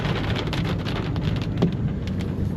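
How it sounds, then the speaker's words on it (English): Heavy rain pours during a passing thunderstorm over a farm field at seeding time, a dense steady hiss with faint low rumbling and some wind buffeting, and no talking. "There's a bit of a thunderstorm rolling past at the moment."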